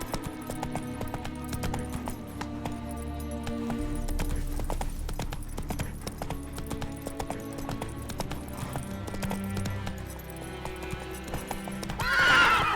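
Roach, a horse in the video game The Witcher 3: Wild Hunt, neighs and whinnies over steady clip-clop hoofbeats, with a game music score running beneath and a sharp whinny rising near the end.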